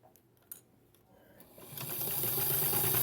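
Sewing machine stitching quilt binding along selvage edges of a scrappy tree skirt, starting quiet with a few clicks, then a steady, close, continuous motor whir building up in the second half.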